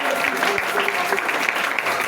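A church congregation applauds during a sermon, a dense, steady clapping with a few voices mixed in that fills the whole short stretch at moderate loudness.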